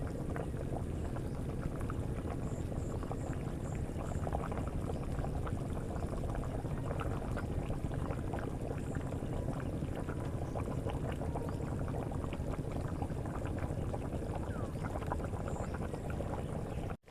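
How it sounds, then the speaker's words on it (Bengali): Chicken and potato curry boiling in a pot, a continuous close bubbling and gurgling that stays steady and fairly quiet throughout, no voices. "দেখুন বন্ধুরা কত সুন্দর ফুটছে।"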